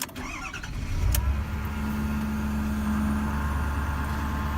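A 2011 Ford F250 with a 6.7 Powerstroke diesel cranks briefly and catches, settling into a steady, loud, close idle with a faint whine running above the engine rumble.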